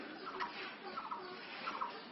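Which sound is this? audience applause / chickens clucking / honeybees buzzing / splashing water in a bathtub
chickens clucking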